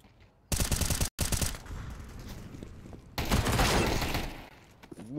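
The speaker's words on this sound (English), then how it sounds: "Ali, nice timing on the shots to find Tux through the smoke." Rapid bursts of gunfire from a Counter-Strike esports match, loud and close, with a sharp volley, a brief cut to silence, then sustained shooting and a second heavier flurry of rounds.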